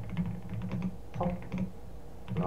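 Keystrokes on a computer keyboard as a command is typed into a terminal, a quick irregular run of clicky taps in close succession with short pauses, close and alone.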